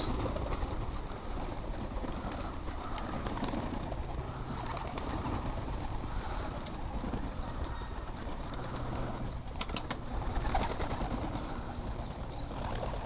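Racing pigeons crowd a one-loft race loft, a dense, steady wash of cooing and wing shuffling with no one speaking.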